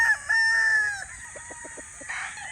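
A Sweater Boston bloodline gamefowl rooster crows once, close and clear, its call rising then trailing off, followed by a few short clucks and a brief rustle.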